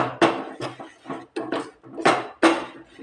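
A spoon mashes and stirs ripe plantain banana into thick, sour curd in a bowl, giving a series of about seven sharp, close knocks and scrapes in an uneven rhythm, with no voices.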